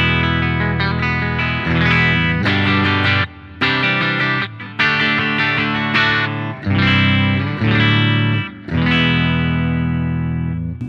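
An electric guitar on a clean amp tone with the compressor pedal bypassed plays bright sustained chords in short phrases with brief gaps, loud and close with no talk.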